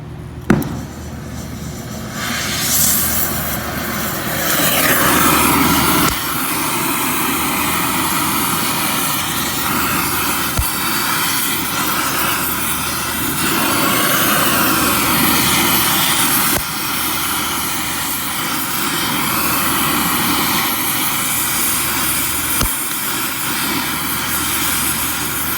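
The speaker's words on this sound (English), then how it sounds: "I got the torch." A torch flame heats a seized outer tie rod nut on a 2008 Jeep Patriot, giving a loud, continuous close-up roar and hiss throughout with a few faint metallic clicks.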